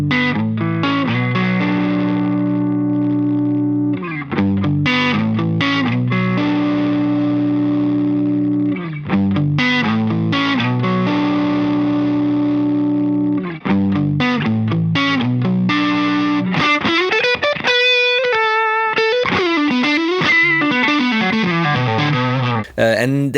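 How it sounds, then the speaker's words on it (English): An electric guitar plays through a Kasleder Germanium Vintage King fuzz pedal set to its warm, balanced Fuzz Face-like mode. Thick, sustained distorted chords and riffs fill the clip loudly and continuously, ending in a run of higher bent notes. "So on the left side, it's the closest to the fuzz face, sort of warm and balanced tone."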